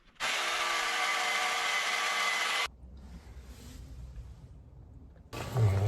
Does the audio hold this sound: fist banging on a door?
no